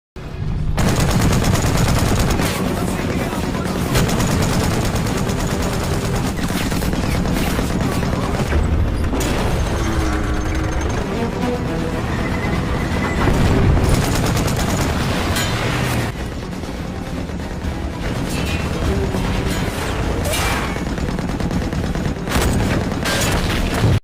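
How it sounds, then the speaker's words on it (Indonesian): Dense, continuous gunfire with machine-gun bursts and heavy booming explosions fills a battle between Soviet and German soldiers, loud and sustained without letup. "Dan serangan tersebut dibalas oleh tentara Jerman dan akhirnya pertempuran pun dimulai."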